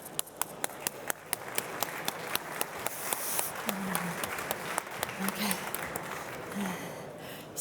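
Conference audience applauding as panelists come onstage, a loose crowd clapping with sharp individual claps up front and brief speech over it.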